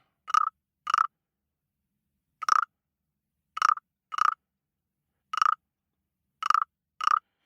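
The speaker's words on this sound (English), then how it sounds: "That's the sound of a frog." Short, hollow croaks repeat at uneven intervals, often in pairs, crisp and close against silence, with no other sounds.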